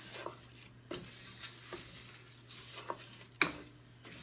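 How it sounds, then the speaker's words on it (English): Risotto rice gets stirred into melted butter in a pan, with quiet scraping strokes, faint sizzling and an occasional light clink of a spoon against the metal, all fairly soft and close. "I'm going to give it a good stir into the butter."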